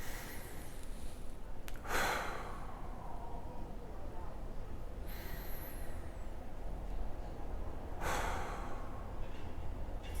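Breathing exercises for calming the fear of public speaking: a few forceful, airy breaths come at spaced intervals between stretches of a person talking.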